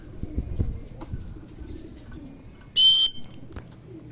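Racing pigeons returning to their loft after a 92 km race from San José, Nueva Ecija, with a quiet low rumble, a few soft thumps, and one sharp, bright burst of fluttering or calling partway through.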